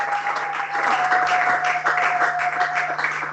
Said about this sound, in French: applaudissez très fort le Seigneur de gloire